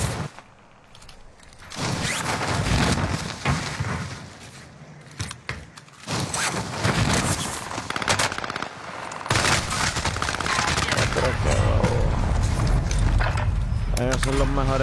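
Gunfire rattles through a Modern Warfare multiplayer match in loud bursts and sustained automatic fire, with players talking over it almost constantly.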